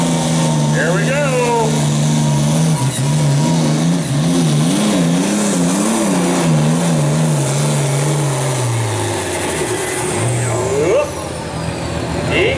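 Allis-Chalmers 190 pulling tractor named Tailbinder roars loud and close during a 6,700 lb tractor pull, its engine note wavering and revving before dropping off near the end, with an announcer talking over it.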